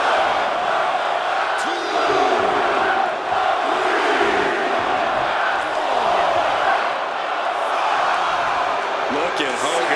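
Arena crowd noise in WWE 2K25 swells steadily through a wrestling match featuring Hollywood Hogan, a dense continuous roar with shouts, while a commentator talks over it.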